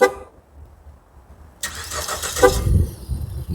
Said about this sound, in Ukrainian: Спробую продемонструвати автозапуск.